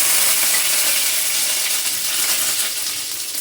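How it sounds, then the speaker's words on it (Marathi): Mustard seeds and curry leaves crackle and sizzle in hot oil in a heated kadhai for tempering, a loud, dense, steady hiss with faint popping that fills the whole stretch with no voices. "आता इथे फक्त थोडीशी मोहरी टाकणार आहे फोडणीला."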